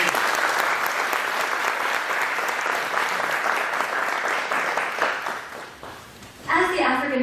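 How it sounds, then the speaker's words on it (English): Sustained audience applause, dense and even for several seconds, fading toward the end before a voice speaks. "please give a big round of applause"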